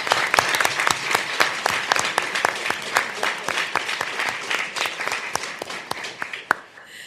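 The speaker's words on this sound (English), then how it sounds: "Let's give them a round of applause again." A small group at a board meeting gives a round of applause, the claps distinct and fairly rhythmic, holding steady before thinning out near the end.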